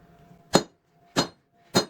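Three sharp, ringing hammer blows strike a metal leaf on a blacksmith's anvil, evenly spaced about two-thirds of a second apart, each a bright close clink that decays quickly into quiet.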